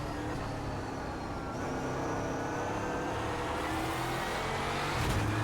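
Euro NASCAR stock car engine in iRacing, a loud continuous roar with pitch shifting as the car accelerates and shifts through gears, with no talking.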